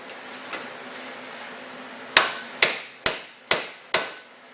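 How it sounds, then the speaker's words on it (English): Five sharp metal-on-metal hammer strikes on a rock saw arbor bearing clamped in a vise, evenly spaced and ringing briefly, following a quiet stretch with a couple of faint knocks. "And I can't hit real hard, I don't want to break the vise."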